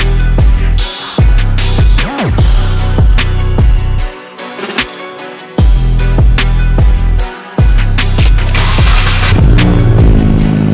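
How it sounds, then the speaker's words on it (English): A 2022+ Subaru WRX with full bolt-ons revs loudly and close by, its engine climbing and dropping through repeated sharp throttle blips with brief pauses between them. "let's just get the car started right now"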